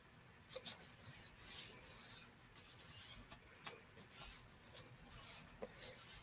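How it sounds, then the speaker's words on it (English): Paper pieces are rubbed and pressed flat onto the front of a card, producing soft close scraping and rubbing strokes in uneven bursts with short pauses, quiet and without talk. "we're going to glue this down right onto the card front"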